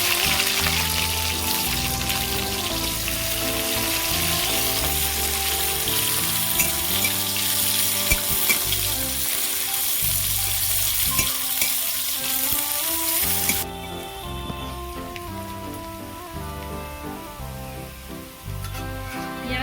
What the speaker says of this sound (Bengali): একটা শুকনো লঙ্কা তেজপাতা গোটা জিরে পেঁয়াজ কুচি দেবো